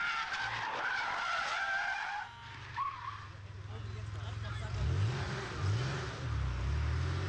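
Cars lapping the Nordschleife during Touristenfahrten sessions, with loud tire skidding and squeal up front, then a steady engine drone and revving as a car passes; someone talks over part of it.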